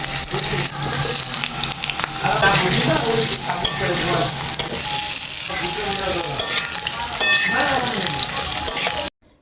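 Potato and pumpkin pieces fry in a pan, a continuous loud sizzle with stirring scrapes and light utensil clinks, ending abruptly; a voice is faintly heard beneath.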